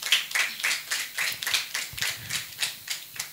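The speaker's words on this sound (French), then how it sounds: "Sous vos applaudissements, s'il vous plaît." A small audience at a talk on nutritionist-dietitian careers claps in a slow, even rhythm of about a dozen distinct beats, near and moderately loud.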